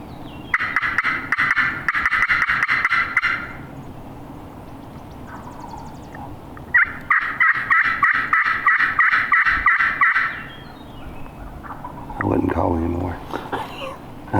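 Wild turkey gobblers gobble in a hilly hunting area, two loud rattling bursts of rapid gobbles a few seconds apart, then a lower, closer call near the end, with quiet talk in between.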